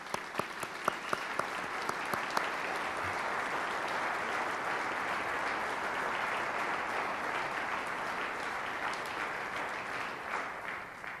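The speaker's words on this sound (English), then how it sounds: "Let's go ahead and give them another round of applause." Audience at a military retirement ceremony applauds the honor guard, band and flag bearers; a few crisp early claps swell into sustained, even applause for about eleven seconds before gradually tapering at the end.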